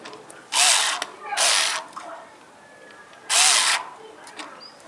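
A Bosch power screwdriver tightens a bolt on a satellite dish mount: three short, loud whirring bursts, each about half a second long, separated by quiet pauses.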